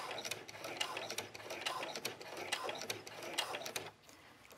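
A home sewing machine stitches a patchwork dog leash, its needle mechanism whirring in rapid close bursts with brief pauses for pivoting, loud and mechanical without speech.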